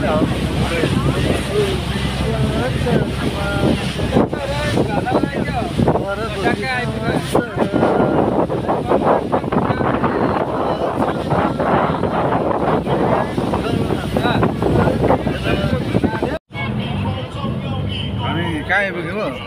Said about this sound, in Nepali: हावा फेरि यस्तो पानी आएको नि